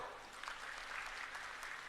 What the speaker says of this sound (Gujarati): એકવાર આપના માટે તાળીઓ થઈ જાય દોસ્તો